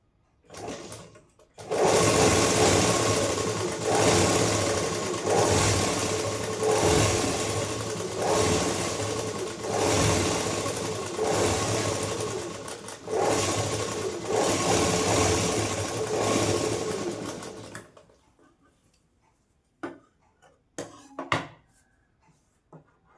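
A sewing machine stitches a folded quarter-inch blouse hem in one long steady run of rhythmic needle chatter. It stops, followed by a few faint handling clicks.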